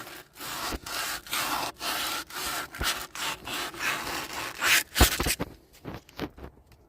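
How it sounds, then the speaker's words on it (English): Fine sandpaper scrubbed against the edge of a front wheel hub on an AU–BF Ford Falcon, making rhythmic, close, raspy back-and-forth strokes at a steady pace with no talking. "just give it a good scrub with a real nice fine sandpaper"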